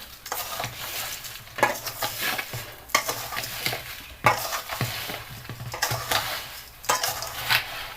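Amla pieces tossed and mixed with sugar in a vessel, with bursts of gritty scraping and rustling that come in uneven waves and short pauses, close and fairly loud, no speech.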